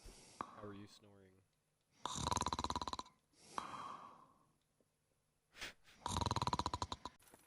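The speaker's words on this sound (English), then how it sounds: "How are you snoring?" Snoring character in the video game Kingdom Come: Deliverance, heavy rasping snores drawn out in long loud pulls with quiet pauses between, following a brief bit of voice at the start.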